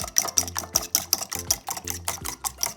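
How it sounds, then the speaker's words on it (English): Eggs seasoned with salt and black pepper being whisked in a bowl, a quick series of rhythmic clinking strokes, close and fairly loud, with no talking. "she's gonna give it a nice little whisk"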